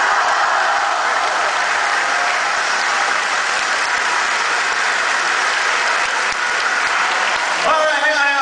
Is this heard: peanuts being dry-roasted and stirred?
no